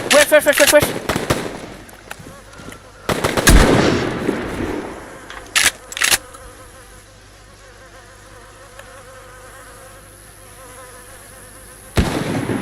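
Gunshots in the survival video game DayZ, with sharp bursts near the start, around three to four seconds and six seconds, and a final crack near the end, over quiet in-game ambience.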